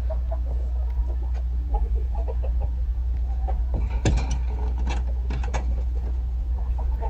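A black rooster and hens in a chicken pen give scattered soft clucks and short calls at moderate distance over a steady low hum, with a brief busier flurry of sounds midway.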